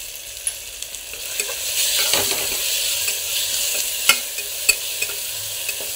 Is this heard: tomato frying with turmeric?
yes